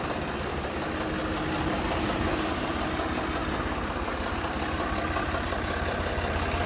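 2013 model 855 tractor engine idling, a close, continuous low throbbing rumble with an even knocking pulse that runs steadily without pause.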